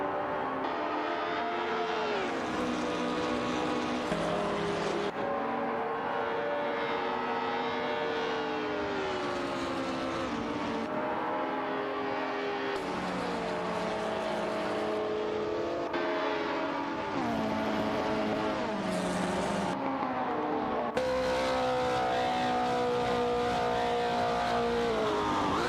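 Race car engines drone continuously in a racing video game with AI drivers in cars such as a Lola T290 and a Porsche 909 Bergspyder, with pitch rising and falling through gear shifts.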